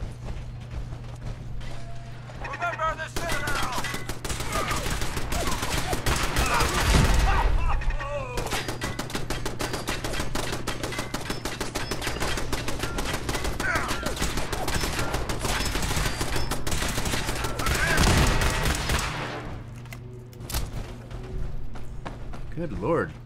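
Automated turret gunfire in Fallout 4, a long rattling stream of rapid shots with mechanical clatter, loud and sustained for most of the stretch, pausing briefly midway, with someone talking over it.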